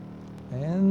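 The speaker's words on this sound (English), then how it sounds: "200 kilometers per hour with a Ford Mustang of the 60s" Engine of a 1960s Ford Mustang racing on gravel in Ford Racing 3 on PlayStation 2, revving up and rising steadily in pitch and loudness near the close, with no talk.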